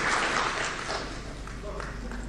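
Audience applause at a book launch for the fitness book Shut Up and Train, a dense sustained wash of clapping that stays steady and fairly loud throughout, with voices mixed in.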